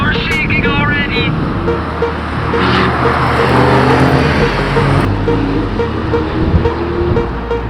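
An Alpine race car drives on a track behind a safety car, its engine a loud, steady drone that swells and eases, with people talking over it throughout.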